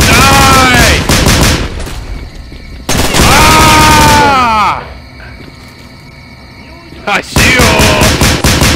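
Loud bursts of automatic gunfire in STALKER: Clear Sky rattle in long volleys, broken by a quieter gap before firing resumes. Someone shouts over the shooting.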